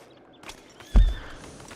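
Horse in Red Dead Online, walking in the town of Valentine, with a single near whinny rising out of a faint clip-clop of hooves; no talk.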